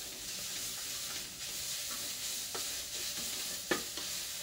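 Sukuma wiki and onions fry in oil in a pot under a quiet, steady sizzle, with a few soft scrapes from a stirring spoon and one sharper knock near the end. No one speaks.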